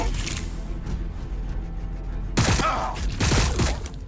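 Gunfire from the strategy game Warhammer 40k Battlesector, with a steady low rumble of battle and then two loud bursts of rapid crackling shots close up.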